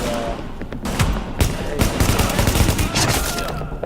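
Assault rifle fire in Tom Clancy's The Division video game, a scoped weapon: loud, dense rapid bursts of gunshots crackle continuously, with sharp individual cracks and booms over a busy combat background.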